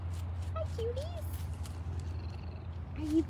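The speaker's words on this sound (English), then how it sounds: "Are you purring? I hear all that purring." A cat purrs in a low, continuous rumble close by, with a few soft chirps and brief vocal sounds over it.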